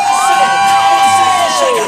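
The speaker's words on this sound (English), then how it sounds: "Special big hand, big applaudissements for China!" A crowd cheers and whoops for a Michael Jackson impersonator at a live show, loud excited voices with sliding shouts and whistles over a steady roar of the audience.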